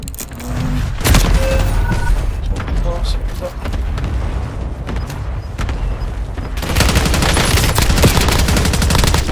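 Rapid automatic gunfire and bursts of shots fill a video game firefight, loud and close, with heavier volleys near the end and faint voices underneath.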